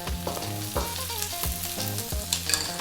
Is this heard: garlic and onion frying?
yes